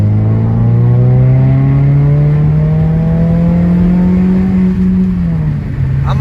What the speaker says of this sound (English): I'ma miss that exhaust note